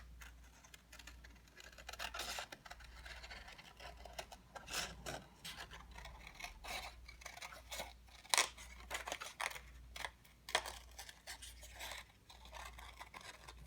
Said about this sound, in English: So with your scissors, you're going to cut along this edge here.